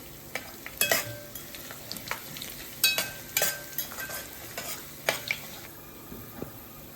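Whole garam masala spices frying and being stirred in a pan for kolambi bhat, with a steady soft sizzle broken by several sharper clinks and scrapes of stirring.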